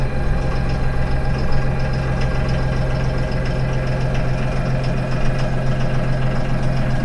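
A Deutz 5080 tractor runs steadily while lifting its front loader, its diesel engine a loud, close, constant low rumble and hum with no breaks.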